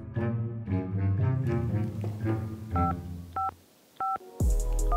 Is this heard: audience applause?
no